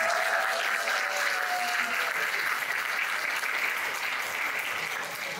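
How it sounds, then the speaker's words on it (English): Sustained audience applause at a talk held at the Natural History Museum of Los Angeles County, steady and fairly loud throughout, with no voices over it. "Another big round of applause."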